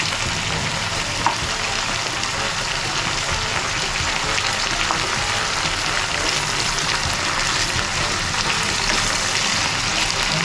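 Ginger paste sizzles and fries steadily in a hot pan for a Bengali katla fish curry, a dense continuous crackle with faint scraping as it is stirred, no voices over it.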